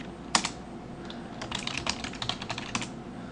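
Computer keyboard typing a terminal command: a quick run of close, crisp key clicks with an uneven rhythm over a quiet background.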